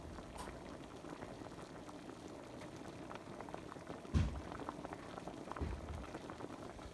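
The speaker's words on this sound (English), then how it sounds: "look at the chicken boiling" Chicken boils in a pot of water with a soft, steady bubbling and gentle popping, faint and close, including a couple of slightly louder bursts and no speech.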